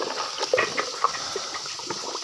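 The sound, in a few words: washing kulfi containers with water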